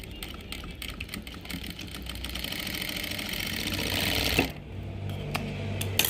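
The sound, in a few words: sewing machine stitching the slit of cigarette pants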